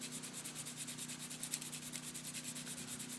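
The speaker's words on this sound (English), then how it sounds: "The quality of this 3M automotive sandpaper is far superior to any paper I've had" A knife blade is stroked in a quick, even rhythm across 3M automotive sandpaper while being sharpened to a convex edge, giving a soft, continuous series of close rubbing swipes.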